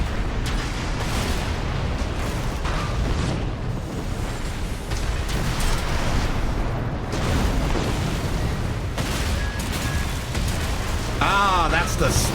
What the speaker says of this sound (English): Okay, vertical missiles.